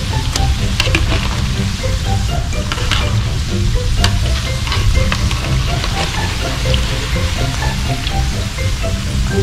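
Sausages cut into many shapes, including large ones, fry in hot oil in a pan, giving a loud, close, continuous sizzle with bubbling and occasional stirring clicks and no talk.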